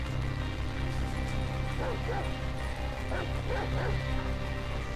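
A dog in Grand Theft Auto V gives a few short yips and barks over steady rumbling game ambience, sitting fairly low in the mix with a sharp knock at the very end.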